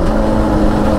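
An ATV engine runs with a steady, loud mechanical drone while downshifting, close up with no other sounds.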